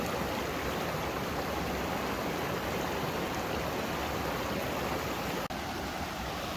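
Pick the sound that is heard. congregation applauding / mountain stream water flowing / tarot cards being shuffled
mountain stream water flowing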